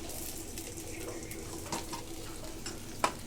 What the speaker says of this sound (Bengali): সব কটাই আমি লাল লাল করে যে ভেজে তুলে নিচ্ছি